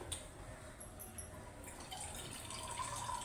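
Water trickles steadily into a pan, a continuous soft splashing with faint drips, close by and even in level.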